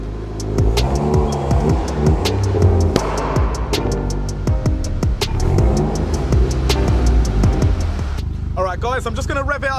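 A stage 2 remapped VW Golf GTI engine revs repeatedly outdoors, loud and close, climbing and falling in sharp sweeps with pops between blips, before cutting to a different whistling, warbling sound at the end.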